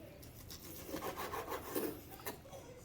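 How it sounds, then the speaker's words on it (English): Spices and seasoning scraped off a cutting board into a pot while making carne asada: a soft, quiet rasping and rubbing that comes in short repeated strokes, close by, with no talking. "I'm going to scrape that off into the pot as well."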